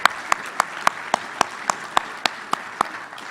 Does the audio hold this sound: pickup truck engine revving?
no